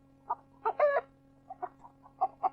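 A hen clucks in a storybook sound effect, several short bursts with one louder squawk, clear and close with a steady low hum beneath.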